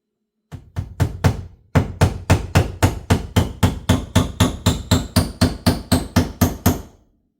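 A hammer drives a thin nail into a wall again and again in a steady, loud rhythm, about twenty sharp blows after a brief pause near the start.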